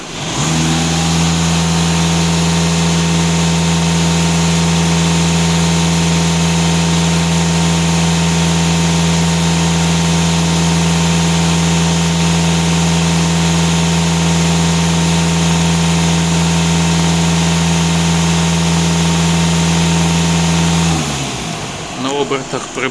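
A Euro 6 diesel car engine runs at a steady, loud idle for about twenty seconds with a strong low drone, then the sound shifts near the end as the revs change. No one speaks over it.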